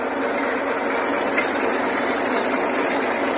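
An MF-240 tractor drives a tubewell pump through a pulley, producing a loud, continuous mechanical drone and hum with faint rhythmic clicks, and no voices.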